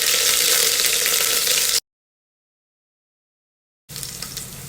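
Spices and green chillies frying in oil for prawn biryani, a loud, dense, continuous sizzle that cuts out to a gap of silence and then resumes.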